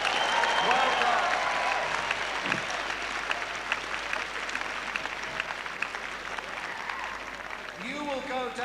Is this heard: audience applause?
yes